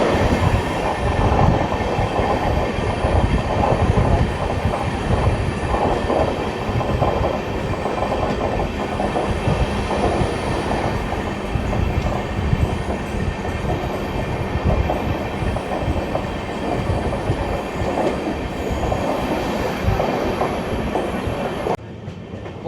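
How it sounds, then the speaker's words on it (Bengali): The Gangasagar Express, running on new LHB coaches from Sealdah toward Bandel, crosses Garifa station: a loud, steady rumble of wheels with continuous clickety-clack, heard from on board, until it drops off at the very end. "বন্ধুরা আমাদের ট্রেন এখন ক্রস করবে গড়িফা স্টেশন ক্রস করছে।"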